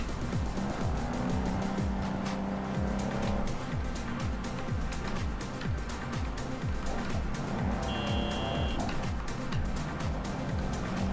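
A car in the Cyberpunk 2077 video game cruises through the city with a continuous engine drone and rolling road noise, steady and close throughout, with brief tonal beeps partway through.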